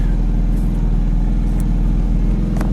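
The engine of a 2023 Porsche 718 Cayman GT4 RS with Weissach Package rumbles deep and loud up close, a constant low idle throb with no clear revving.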